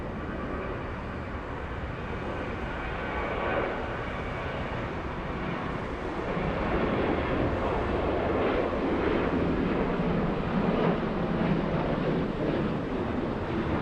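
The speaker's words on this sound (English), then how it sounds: "Let's go over to the 737 takeoff." A Boeing 737 takes off at Atlanta's Hartsfield-Jackson airport, its broad engine roar building and swelling over the runway at a moderate distance, with steady wind buffeting throughout.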